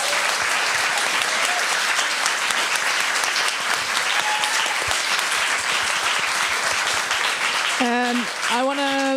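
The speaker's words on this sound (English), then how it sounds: "Please give them applause." Sustained audience applause after a talk at a feminist event, dense and steady throughout, with a voice breaking through near the end.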